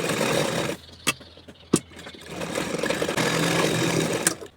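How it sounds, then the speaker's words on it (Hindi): A sewing machine stitches fabric onto buckram for a suit or kurti, a close mechanical whirring run that stops, gives a couple of sharp clicks, then starts again and runs steadily, without speech. "तो हमें बकरूम के ऊपर और सिलाई लगाना"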